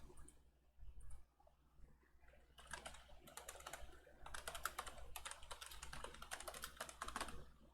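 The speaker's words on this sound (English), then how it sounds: "Just type that in, hit enter." Computer keyboard being typed on in quick irregular bursts of soft clicking keys, close but quiet, alone without talk.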